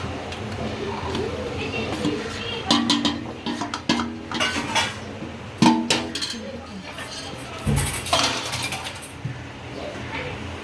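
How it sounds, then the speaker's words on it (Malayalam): A spoon scrapes and knocks against a hot pot while rice flour dough is stirred in hot water on a gas stove, giving irregular clinks and thuds in uneven bursts, with people talking quietly in a home kitchen. "ആ ചൂടോടെ തന്നെ ഇളക്കണം."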